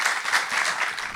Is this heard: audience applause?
yes